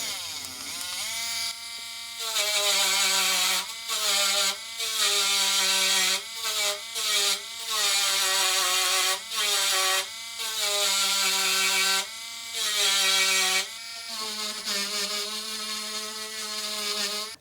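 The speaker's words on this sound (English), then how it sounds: "I'd just use this little tool and file it away with this brass brush" A brass brush rasps back and forth against rust stains on a yellowed Atari 520 ST computer, giving loud, steady scrubbing strokes in bursts with short pauses, close up and with no talking.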